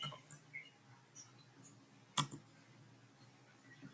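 Mouse and keyboard clicks while copying and pasting text on a computer, a handful of light, sparse clicks close to the microphone, one sharper click standing out, in an otherwise quiet room with no talking.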